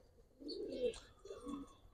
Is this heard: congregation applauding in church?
no